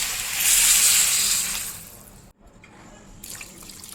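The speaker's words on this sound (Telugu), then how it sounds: "ఇప్పుడు మొత్తము మూడు డబ్బాలు నీళ్ళు పోసుకోవాలండి" Water poured into a cooking pot while making dal khichdi, a steady loud splashing stream for about two seconds that then stops, followed by faint drips and trickles.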